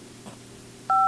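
A short burst of telephone dialing tones, a dual-tone beep lasting about a quarter second, sounds clearly and loudly at the end after a quiet stretch of faint room noise.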